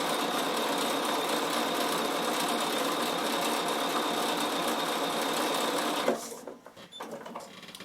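A Bernina sewing machine stitches wool appliqué with fine silky embroidery thread and an open toe foot, a steady close whirring hum that runs continuously, then stops near the end.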